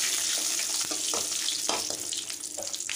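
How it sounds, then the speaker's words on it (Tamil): Curry leaves and dried red chillies frying in hot oil for tomato chutney, a steady close hiss and sizzle with scattered crackles and pops throughout. "கருவேப்பிலை லைட்டாக பொரிஞ்சு வரட்டும்"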